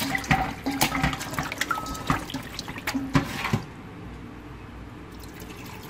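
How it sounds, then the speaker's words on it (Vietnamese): Tap water runs over chicken wings in a kitchen basin, a close splashing and gurgling with drips and some handling sounds, and it cuts off after about three and a half seconds, leaving a quiet background. "Rồi xả nước xăm xắp nè."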